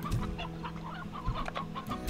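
Farm chickens cluck and chatter inside the game Slime Rancher, a few quick clucks with low thumps at the start and end, set against a constant droning game ambience, with no voices.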